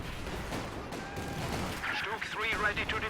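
Mortar pit fire in Company of Heroes 2, a 2v2 match: muffled artillery-like thumps and gunfire crackle in a busy battlefield mix, with a commentator talking over it.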